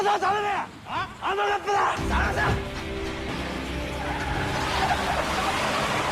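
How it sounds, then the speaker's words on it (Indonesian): Cars in a film chase scene squeal and roar, with repeated sharp tire screeches followed by a loud, rushing engine and road noise under dramatic music. "Kejar-kejaran mobil pun terjadi antara Sawamura dengan pelaku"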